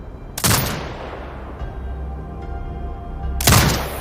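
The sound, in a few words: turret firing in video game Sniper: Ghost Warrior Contracts 2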